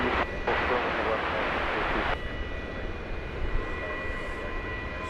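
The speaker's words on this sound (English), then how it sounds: "So a safe touchdown for flight 1067." An airliner touches down for flight 1067 at Dallas Fort Worth airport, a steady broad jet roar with a brief louder surge early on, faint tonal whine above, under a possible voice.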